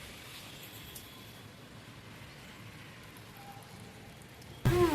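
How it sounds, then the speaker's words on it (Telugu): Rain falling steadily with heavy traffic nearby, a constant wash of drops at even level, ending in a brief louder burst of a voice at the very end. "మొత్తం వర్షం పడుతుందా"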